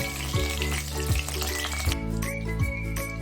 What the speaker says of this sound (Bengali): এবার আমি এর মধ্যে তেজপাতা ফোড়ন দিয়ে দিলাম আর গরম মশলা ফোড়ন দিয়ে দিলাম